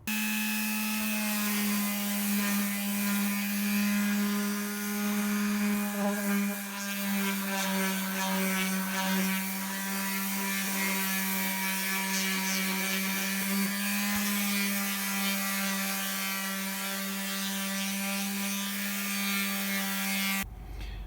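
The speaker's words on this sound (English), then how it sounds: "I've sanded everything down to 220 and it's looking real good" Wood cupboard edges in a Fleetwood Pioneer travel trailer are sanded toward 220 grit, a soft, steady rubbing over a constant low motor hum that persists throughout without pause.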